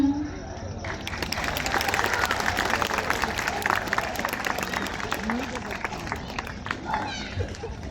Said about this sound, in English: your applause makes the kids it's a proud moment for them